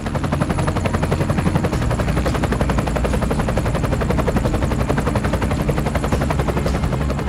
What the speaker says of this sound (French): on a fait appel à l'hélicoptère